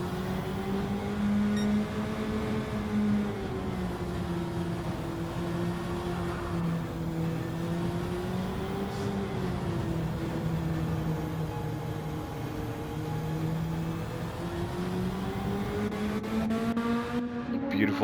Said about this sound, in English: Yeah, Boss is not pushing the car at all.